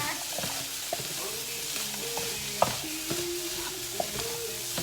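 Scrambled eggs stirred through sizzling fried rice, a steady broad hiss of frying under repeated light scrapes and taps of a utensil against the pan, close and continuous with no talking.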